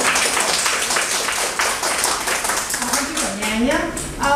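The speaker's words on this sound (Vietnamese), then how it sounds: "có một tràng pháo tay" An audience at an indoor meeting gives a short, even round of applause, and a voice begins speaking near the end.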